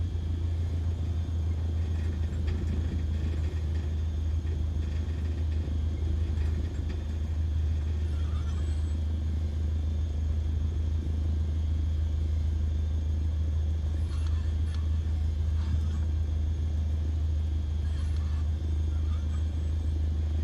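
A light aircraft's engine idles and taxis in Microsoft Flight Simulator 2020, a steady low droning rumble that holds at a constant level for the whole stretch, with no speech over it.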